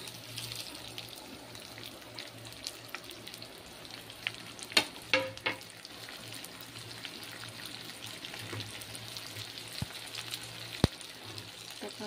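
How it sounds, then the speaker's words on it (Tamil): Cinnamon sticks and onions frying together in a pan for a Tamil poriyal, a steady low sizzle throughout with a few sharp clinks of a spoon against the pan near the middle and end. "பட்டை வெங்காயம் எல்லாத்தையும் அப்படியே மொத்தமாக போட்டுருவோம்."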